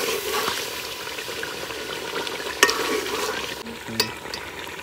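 Ginger garlic paste frying in a village-style chicken karahi, a steady close sizzle with stirring scrapes throughout and a couple of sharp clinks, no talking.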